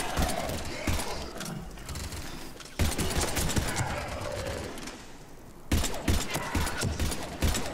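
Rapid bursts of gunfire in the video game Mass Effect 3, with steady shooting and sharp onsets through a busy battle mix, heard alongside game sounds.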